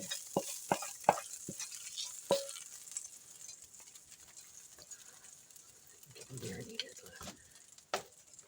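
Food sizzles in a pan on a home kitchen stove, a soft continuous hiss with sharp utensil clinks and stirring taps early on and a voice talking nearby.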